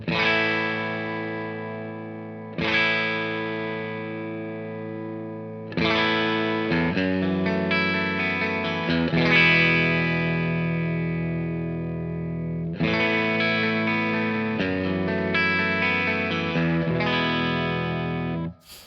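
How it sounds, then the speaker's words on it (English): A music loop with cassette tape compression applied, with dense, sustained chords. It restarts with fresh attacks every few seconds, sounding thick, squashed and evenly loud throughout. "So this is tape compression now."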